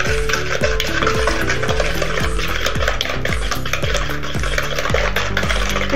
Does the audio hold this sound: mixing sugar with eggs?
yes